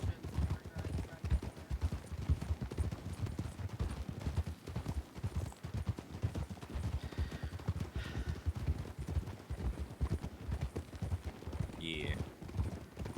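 Horse hooves clip-clop steadily in a roleplay video game, a dense, continuous trotting rhythm with a brief whinny near the end and someone talking briefly over it.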